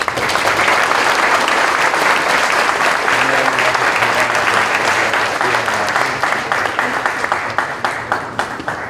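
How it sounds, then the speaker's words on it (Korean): Audience in a church service gives loud, sustained applause honoring a retiring founding pastor, dense clapping filling the room throughout and thinning slightly toward the end, with faint voices beneath. "목사님 나오실 때 다시 한번 뜨거운 박수로 축복합니다"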